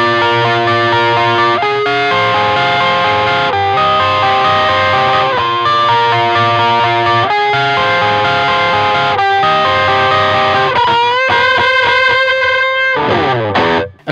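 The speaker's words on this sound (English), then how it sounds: "but I go way over to the blues driver to bring the clarity out for those quick individual notes" Quick individual electric guitar notes played through a Blues Driver overdrive pedal for a gritty tone, loud and sustained with a gritty, clear distortion, the phrases repeating in a steady pattern with a brief break near the end.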